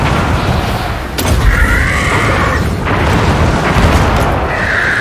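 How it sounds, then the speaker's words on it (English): Airstrike explosions in the video game Total War: Warhammer 2 roll out as loud, continuous deep booms and rumbling blasts that swell and overlap throughout. "I'm going to use my airstrike here."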